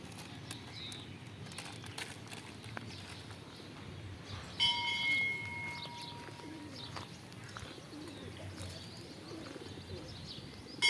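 Soft cooing of pigeons being fed grain, in the distance over a low background hum, with a brief whistle-like tone partway through.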